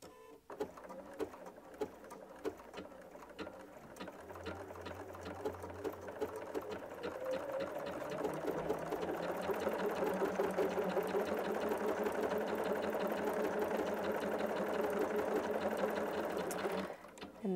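Bernina 790 Pro sewing machine stitching steadily with a rapid mechanical hum and needle clatter, starting softly and growing louder and denser from about eight seconds, continuous until a brief stop near the end.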